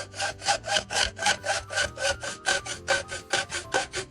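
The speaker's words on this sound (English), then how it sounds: "I'm just sawing through this giant hunk of hair with zero expertise and skill." Scissors saw rapidly through a thick hunk of Barbie doll hair, a fast even rhythm of rasping, crunchy strokes close up.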